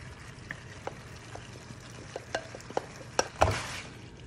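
A pan of salmon pieces being sautéed and stirred, with a soft sizzle underneath and a series of scraping, clinking stirs that grow louder toward the end, with no talking.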